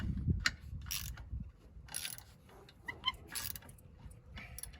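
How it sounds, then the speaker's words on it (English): A wrench works loose the brake caliper star bolt on a first-generation Nissan Xterra, a few faint metallic clicks and scrapes from close by in a quiet garage. "Keep loosening that star bolt."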